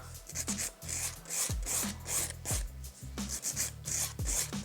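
A nail file rasps back and forth across a gel nail in short, steady strokes, close and fairly quiet, with a repeated rubbing rhythm and no talking.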